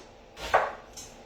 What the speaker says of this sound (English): so I'm going to chop up this onion